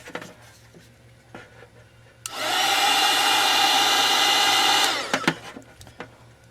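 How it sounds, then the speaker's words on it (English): A heat gun blows hot air to cure glue while a snow brush's plastic squeegee bracket is being repaired. Its loud, steady whir runs for about two and a half seconds, with quiet tool handling and clicks before and after. "And I like to cure that with the heat gun."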